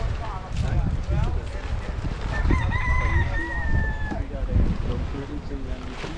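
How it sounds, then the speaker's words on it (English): A rooster crows once, a drawn-out wavering call at moderate distance, over outdoor beach chatter with people talking and background bustle. "Yeah, chicken."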